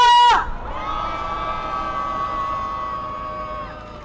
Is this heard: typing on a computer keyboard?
no